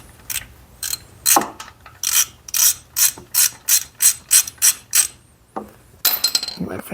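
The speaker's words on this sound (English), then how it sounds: "So we're gonna pop that bolt off and start to drain this." A ratchet wrench clicks in a quick, steady series of loud, close strokes while loosening the 17 mm oil drain bolt on a 2017 Honda Rancher DCT ATV, pausing briefly before a final burst of metallic rattling.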